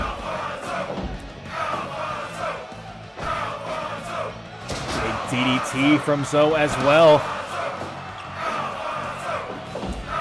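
A house wrestling show's crowd yells and whoops loudly, swelling into a rowdy burst midway, while a commentator talks over it.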